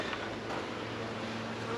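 Honey bees swarm around an opened hive, a dense, steady buzzing hum that holds close and even throughout with no pauses.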